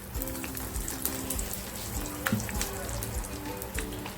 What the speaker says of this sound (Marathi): जी लाल मिरची घेतली ती टाकते फोडणीला थोडंसं हिंग टाकते